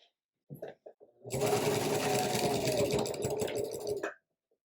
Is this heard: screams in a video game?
no